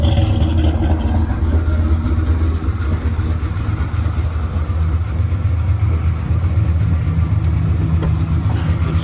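A car engine idles steadily, a loud continuous low rumble with a faint higher whine on top, heard up close and alone without talk.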